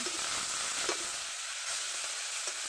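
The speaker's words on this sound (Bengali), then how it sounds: "চিংড়ি মাছটা ছেড়ে দেবো তেলের ভিতরে, ভালো করে নেড়ে করে" Prawns frying in hot oil in a kadai give a steady, dense sizzle that holds for the whole stretch, fairly close and even, with small bursts of spattering and no talking.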